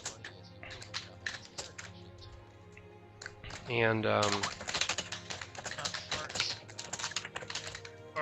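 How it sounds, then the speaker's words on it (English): Clacky computer keyboard typing, rapid close keystroke clicks in irregular bursts running through the whole stretch, with someone speaking briefly in the middle. "your typing is really just... I like a nice clacky keyboard."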